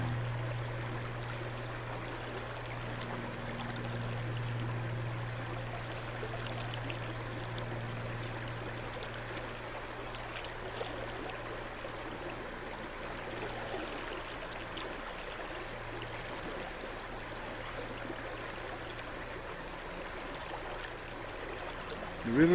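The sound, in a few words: river flowing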